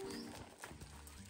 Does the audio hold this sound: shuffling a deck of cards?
no